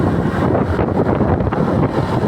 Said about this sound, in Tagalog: So nakaliwa ang tulak ng hangin, kalakasan.